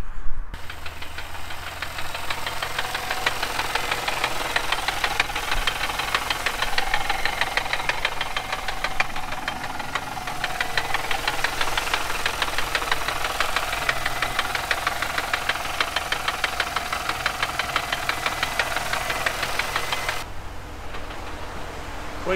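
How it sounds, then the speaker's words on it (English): Steady mechanical grinding and rattling from a Mini Cooper R50's gearbox when engaging first gear, close and continuous for about twenty seconds, ending abruptly. "It makes a wonderful noise when you try and get it into first gear, as Jake will demonstrate."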